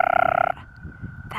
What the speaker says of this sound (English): that's the American toad